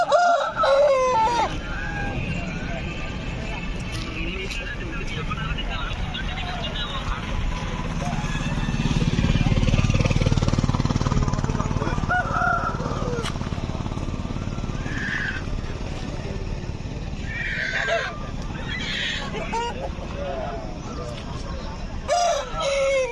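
Roosters, likely Aseel fowl, crow at the Gudur chicken market, with a few crowing bursts rising over steady crowd chatter, people talking close by and a passing motorcycle hum.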